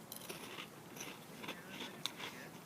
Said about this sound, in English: I probably shouldn't have stopped to chew on these crunchy things. I can't even hear myself talk.